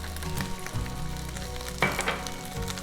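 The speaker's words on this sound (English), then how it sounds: "our pan is nice and warm, so we're going to go ahead and add our veggies" Asparagus, snap peas, zucchini and spring green onions sizzle steadily in a warm pan, a close, continuous fry with a brief louder crackle partway through as they settle, no voices.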